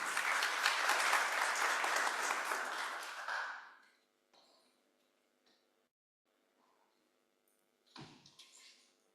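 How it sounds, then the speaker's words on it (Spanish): Applause for the speakers at an academic forum on mixed-methods research: about four seconds of steady audience clapping that cuts off abruptly, followed by quiet room noise and faint scattered clicks. "Un aplauso a los expositores y vamos a dar inicio."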